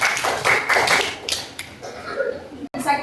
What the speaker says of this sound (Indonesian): Tepuk tangan dong untuk Natasha.